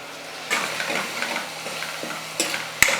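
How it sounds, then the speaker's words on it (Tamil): Onions and ground tomato sautéing in a pan for an okra gravy, a soft steady sizzle with occasional scraping strokes of a spatula and a sharp clink near the end, close and moderate. "இப்போ இதை நல்லா வதங்கி பச்சை வாசனை போகிற அளவுக்கு நல்லா வதங்கட்டும்"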